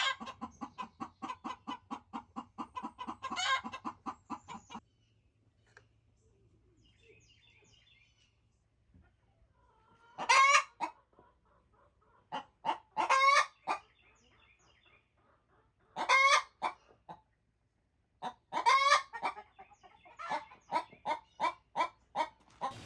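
Hens with young chicks clucking up close: a steady run of rapid clucks, then a short quiet stretch, followed by repeated separate bursts of louder clucking and calls.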